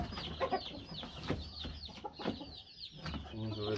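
Gamecocks shipped by air cargo, Butcher Pinto and Roundhead roosters, clucking and making short calls close by, a busy run of overlapping bird sounds that keeps going throughout.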